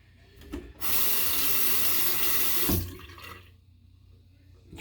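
Water gushes from a tap for about two seconds during a shave with sugarcane shaving cream, a loud steady hiss that starts abruptly and cuts off, with faint handling sounds around it.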